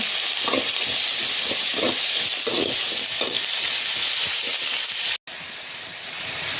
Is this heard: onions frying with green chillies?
yes